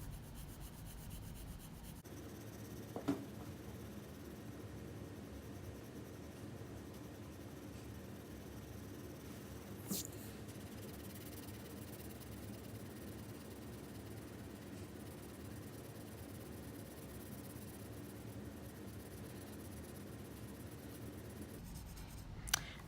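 A number 2 pencil shades across paper in a long, continuous soft scratching rub, quiet and close, broken by a couple of faint taps.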